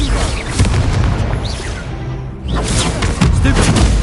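Confringo explosive spell blasts in the Hogwarts Legacy video game, heavy booming bursts one after another with a brief lull near the middle, loud and close.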